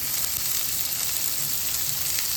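Onion and carrot frying in a pan for vegetable hakka noodles, a dense, even hiss of sizzling oil holding steady throughout, close and fairly loud, with no talking.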